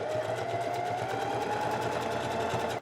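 A sewing machine runs steadily, stitching the cuff onto a hoodie with a close, even mechanical whir that ends abruptly.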